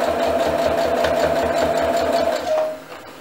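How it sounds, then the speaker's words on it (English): A sewing machine runs steadily while stitching a fabric face mask close to the edge, its rapid motor whir and needle chatter continuous and near for most of the moment before winding down and stopping. "Now we're just going to sew to the edge, or really close to the edge."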